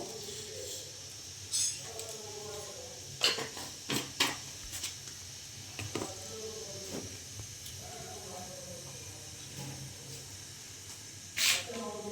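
Mustard seeds and cumin splutter in hot oil with scattered sharp pops and crackles over a low steady hiss, faint and close, several bursts spread across the stretch.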